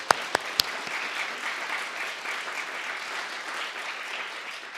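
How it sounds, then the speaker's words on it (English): An audience at an entrepreneurship event applauds steadily, preceded by a few sharp claps or knocks at the very start, forming a broad, even wash of clapping from a moderately distant crowd. "Can we give them another round of applause?"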